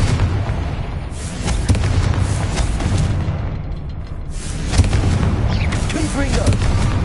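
Confringo fire-spell blasts in Hogwarts Legacy, loud booming bursts going off repeatedly over dense game noise, with a short quieter lull in the middle.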